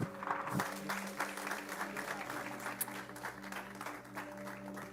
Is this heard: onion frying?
no